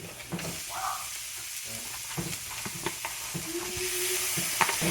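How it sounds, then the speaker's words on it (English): Tuna being added to sautéing vegetables in a pan and stirred, a steady sizzle with scraping and clinking of a utensil close by, no voices. "And now we're going to add in our tuna into our veggies."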